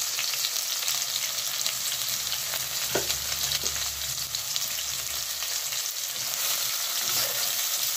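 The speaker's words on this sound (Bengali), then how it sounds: "এখানে আমার রসুনটা একটু লাল হয়ে গেলে আমি তারপরে পেঁয়াজটা দিয়ে দেবো।" Garlic browning in hot oil in a pan for a chicken and potato curry, with onion about to join it: a steady, close, continuous sizzle and hiss with a brief clatter partway through.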